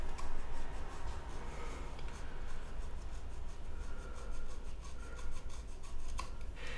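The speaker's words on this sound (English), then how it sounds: "I'm just going to remove a little bit of cane." A bassoon reed's cane is scraped with a reed knife, giving a close, steady dry rasping that carries on throughout with a few sharper ticks and no talking.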